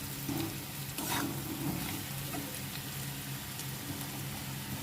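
Spice masala sautéing in oil with garlic until the oil separates, a steady close sizzle and frying hiss running throughout with occasional stirring scrapes, no talk.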